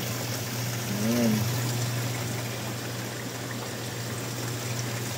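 Water overflowing from a container and trickling steadily down to a lower level, a continuous soft splashing wash under a low steady hum, with a brief voice early on.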